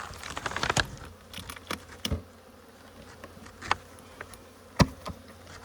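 Honey bees at a beehive in Alaska, with close buzzing passes and faint insect hum amid sharp clicks and taps, some bees zipping past the microphone, and no voices.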